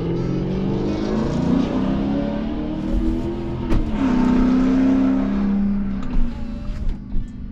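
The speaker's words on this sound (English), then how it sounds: "That was a very loud Jeep Grand Cherokee." A loud Jeep Grand Cherokee engine roars past close by, its drone rising and falling as it passes, with a sharp click partway through.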